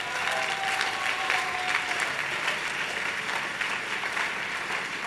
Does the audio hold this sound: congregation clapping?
yes